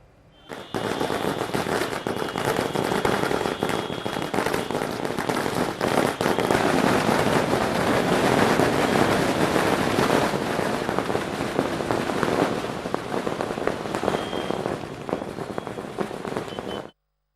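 Firecrackers crackle in a dense, continuous barrage of rapid pops at a political party welcome in Chennai, a loud, unbroken rattle lasting many seconds with no voices above it.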